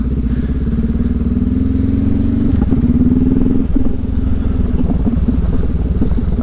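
A KTM 390 Adventure and a Honda CB500X ride over rocky, dusty gravel in Oregon, their engines droning steadily and close, with rising revs and scattered clatter from stones.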